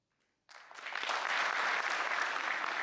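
A lecture audience bursts into sudden, dense applause after a moment of silence, a loud, sustained wash of many hands clapping together.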